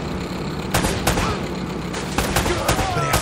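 Gunfire in the video game Uncharted: Drake's Fortune, with rapid bursts of automatic shots over a dense backdrop of in-game action sound and occasional voices, loud and continuous.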